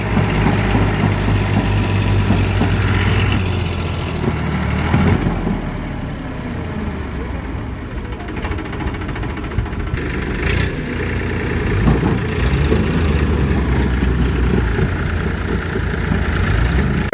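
An Arjun tractor stuck in a farm field idles with a loud, steady engine drone that shifts slightly in tone, continuous for the whole stretch with no talking.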